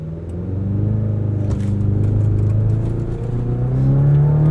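A 2024 Chevrolet Colorado ZR2 Bison engine holds a steady, loud rev near 3,000 RPM during a launch on an offroad trail, a deep droning hum that rises slightly toward the end.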